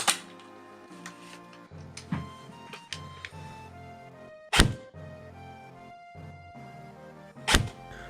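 Delta Armory PAR Mark III airsoft rifle fired with 0.25-gram BBs over a chronograph, several sharp thunking shots spaced a second or two apart with mechanical clatter between them, close and fairly loud.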